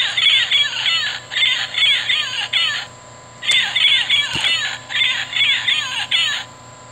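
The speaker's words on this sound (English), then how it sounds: "Blue-fronted Amazon parrot." Toy blue-fronted Amazon parrot figure from the Wild Republic Audubon collection plays a recorded call: repeated bursts of shrill chattering squawks in a steady rhythm, close and fairly loud, with a short gap and a small click midway.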